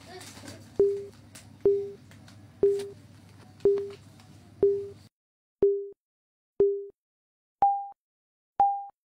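Countdown timer sound effect: nine evenly spaced short beeps about one second apart, the last two pitched higher, over a faint background hum that drops out midway.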